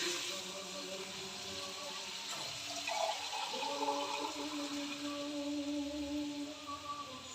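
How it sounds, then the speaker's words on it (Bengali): Water poured into a cooking pot of spiced curry with fried lentil dumplings, a continuous close rushing and splashing pour with some bubbling, no speech. "এবার বন্ধুরা জল দিয়ে দিলাম"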